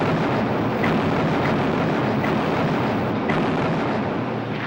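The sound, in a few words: bombing explosions on atolls by carrier aircraft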